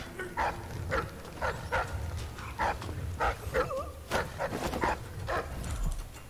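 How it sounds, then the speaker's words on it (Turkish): Dogs bark repeatedly in Dishonored 2, a rhythmic series of sharp, mid-distance barks with occasional whimpers over low game ambience. "Köpekler biraz gürültü yaptı ama."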